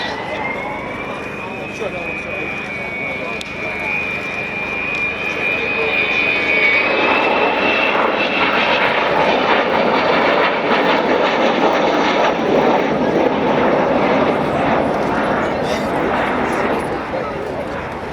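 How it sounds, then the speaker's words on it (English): An Avro Vulcan B2 bomber, XM607, passes over the far side of an airfield at RAF Waddington, its jet roar building from a steady whine into a loud, broad rumble that fills the air, with a voice heard faintly underneath. "the aircraft on the far side of the airfield, Vulcan XM607"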